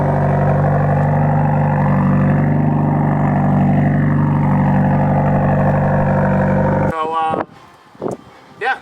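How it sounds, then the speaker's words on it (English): A Subaru WRX fitted with a TurboXS downpipe rumbles loudly and steadily at close range for about seven seconds before the exhaust sound cuts off, followed by a few short bursts of talk. "and now it sounds like this. Love the way my exhaust sounds"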